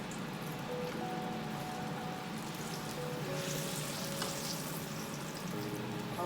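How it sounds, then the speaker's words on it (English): Pork chops sizzle and crackle steadily in a frying pan, a faint continuous hiss with occasional brief tonal clinks above it. "So I got 3 already done. Now I'm gonna fry the rest."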